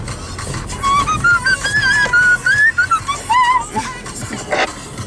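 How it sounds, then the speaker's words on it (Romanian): A person whistles a wavering, tuneful melody outdoors on an off-road trail with a Dacia Duster, the whistle rising and falling over a few seconds above rustling and a low engine-like rumble. "noi ar trebui să fluierăm."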